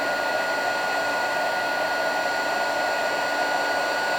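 A heat embossing tool blows hot air in a steady, even whoosh, held at a moderate level throughout while a card is being worked.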